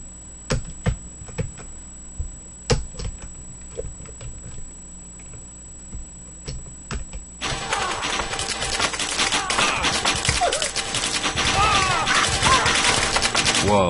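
Rapid gunfire from an aerogun in the Happy Wheels video game erupts as a dense, loud, continuous barrage after several seconds of sparse clicks and taps.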